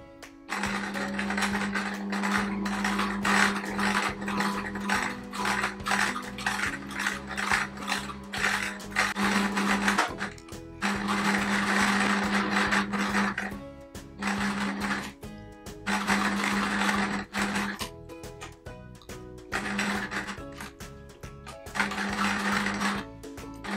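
A sewing machine stitches a patchwork quilt appliqué in steady, rapid runs of mechanical clatter, pausing briefly several times between bursts, close and clear with no talking.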